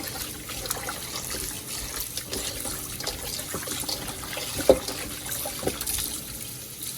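A kitchen tap runs cold water over turkey wings being washed with vinegar, a steady soft trickle and splash with a few brief clunks, close by and without talk.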